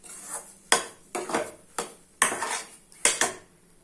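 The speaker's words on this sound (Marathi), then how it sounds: "असं हलवत राहू." Semolina roasting in a pan for mango halwa, stirred with a spoon: about six distinct scraping strokes in an uneven rhythm, close and fairly quiet, with no voices.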